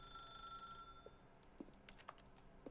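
A telephone rings in the video game The Stanley Parable: Ultra Deluxe, a faint electronic bell-like tone that holds steadily at first, then gives way to scattered quiet clicks and short chimes in a hushed room.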